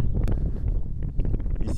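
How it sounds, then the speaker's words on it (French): Gusty wind buffets the microphone in an orchard of young trees being fitted with irrigation, a steady low rumble with brief rustling bursts and no talking. "Il y a un peu de vent aujourd'hui encore."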